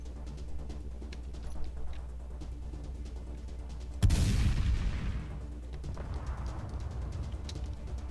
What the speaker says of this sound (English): use the ship's gun,